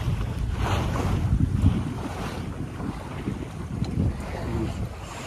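A Marreco 16 sailboat under sail off Santos, with steady wind buffeting the microphone and waves washing against the hull, a continuous loud rush and no voices.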